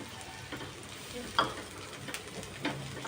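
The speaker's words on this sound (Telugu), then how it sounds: "ఇప్పుడు చిన్న చిన్న ముక్కలు కట్ చేసుకున్న మష్రూమ్ కూడా వేసేసుకుందాము" Chopped mushrooms sizzle in a pan with ginger garlic paste for a mushroom pulao, a steady frying hiss broken by a few scraping stirs and light utensil clinks.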